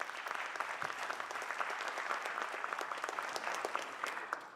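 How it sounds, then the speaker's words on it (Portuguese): Applause from an audience at a formal solemn session honoring labor lawyers, a steady wash of clapping from many hands, moderately distant and sustained throughout. "Uma salva de palmas ao Dr. Ricardo."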